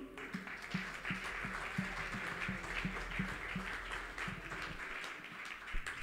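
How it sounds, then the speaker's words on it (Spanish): An audience at a national church convention applauds, with steady rhythmic clapping from a large crowd that fills the hall and fades slightly toward the end. "¿Podemos repetir un aplauso?"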